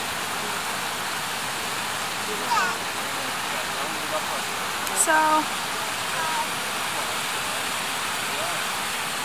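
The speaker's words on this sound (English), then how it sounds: "The waterfall is absolutely stunning." The Polikarya waterfall near Sochi rushes as a loud, steady broadband roar throughout, while a person speaks briefly over it and a few faint bird chirps cut through.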